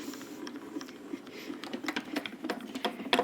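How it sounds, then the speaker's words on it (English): A Grand Calibur die-cutting machine presses taped cardstock through its rollers, giving a steady low grinding hum with scattered light clicks and ticks, close and fairly quiet. "we're going to run it through the grand caliper"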